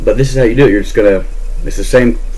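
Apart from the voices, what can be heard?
No distinct noise like a dog, phone or traffic.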